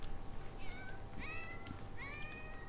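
Several short, rising cat meows from The Sims 4 sound over steady background game music, each a clear synthetic-sounding mew spaced about a second apart.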